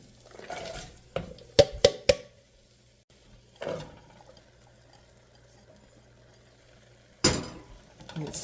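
Vegetables tipped into a pot for sausage vegetable soup, with scattered clinks and knocks of a utensil against the pot separated by quiet gaps and faint background hum.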